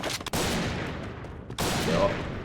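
Gunfire from a shooter video game comes as two loud bursts of rapid shots separated by a short pause, with dense rattling reports and a faint in-game tone underneath.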